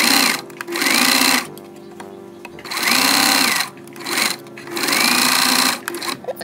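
A sewing machine stitches baby sleeper fabric in three loud bursts of rapid needle clatter, each lasting about a second, separated by short pauses.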